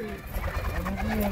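Pigeons coo softly in a loft setup of high-flying pigeons, low rolling calls close by, with someone talking over them.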